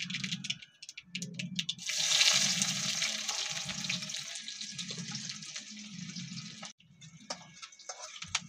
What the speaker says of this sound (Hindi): अभी सुबह प्याज डाल चुकी है कढ़ाई में, आप देख सकते हैं ये